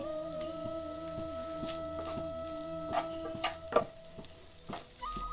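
Chicken egg fried rice with spring onion stirred in a hot pan, with a steady close sizzle broken by repeated scraping strokes of a spatula and occasional clinks.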